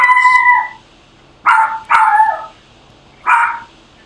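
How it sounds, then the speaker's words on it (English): Dogs bark outdoors in winter during snow plowing, four sharp loud barks with a yelping, howl-like tone, the first long and drawn out, then a quick pair and one more after a pause. "that's just my dogs barking at nothing"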